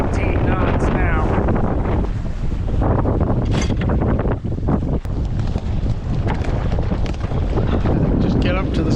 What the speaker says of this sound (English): So as wind's continuing to build, it's up to about 18 knots now.